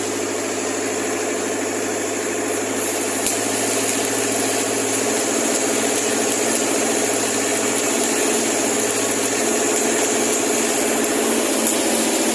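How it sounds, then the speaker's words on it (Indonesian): A Miller 500X Eco Pro welder's re-engineered engine idles in a steady, unbroken drone with a constant hum and a faint high whine, close and unchanging, with no voices. "Mesinnya langsam, nggak ada masalah."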